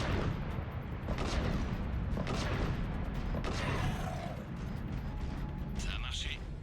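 Gunfire in the Mass Effect 3 video game, a dense, steady barrage of shots and mechanical clatter that runs throughout, with game voices talking over it.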